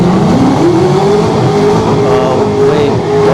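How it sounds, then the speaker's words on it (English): Loud engine roar from a Dodge Challenger Hellcat and a Camaro drag racing at Orlando Speed World, with a steadily climbing engine note that runs unbroken for the whole stretch. "Hellcat Challenger against Camaro."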